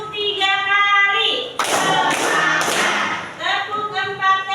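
A class of children claps together three times on a teacher's count, a few sharp, loud bursts of collective hand claps, with a voice talking just before and after.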